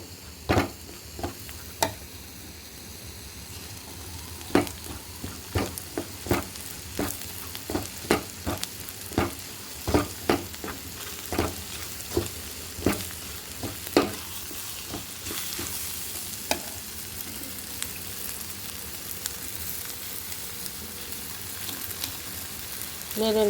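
Onion shoved to one side of a pan while the rest browns in hot oil: a steady sizzle runs throughout, broken by a series of sharp spoon clicks and scrapes against the pan, close and with no talking.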